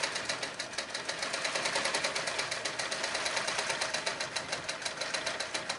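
A longarm quilting machine on a Quilt Butler setup stitches through fabric with a fast, steady mechanical chatter, continuous and close, with no talk.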